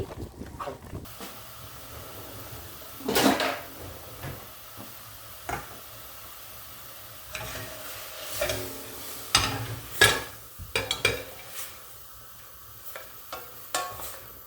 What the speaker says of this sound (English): Keep them sautéing down until the kettle boils.